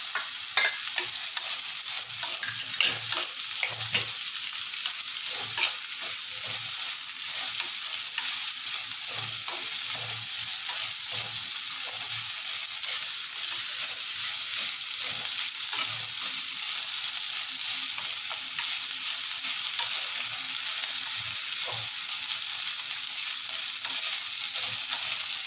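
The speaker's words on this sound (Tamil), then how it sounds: "இந்த நிமிஷம் நல்லா வதங்கணும். இது வெங்காயம் உருளைக்கிழங்கும்." Onion and potato sauté in a pan for palak keerai poriyal, a constant close sizzle overlaid by regular scraping and clacking stir strokes repeating every second or two.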